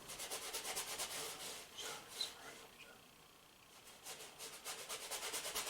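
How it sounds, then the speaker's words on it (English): Paintbrush scrubbing oil paint thinned with refined linseed oil onto a canvas for a still life, soft rhythmic bristly strokes close up in quick bursts with a short lull in the middle. "just kind of scrub this in."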